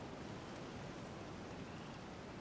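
Steady, dense hiss of falling rain in a biome-building video game, a continuous wash with no breaks, fairly quiet and heard alone without any voices.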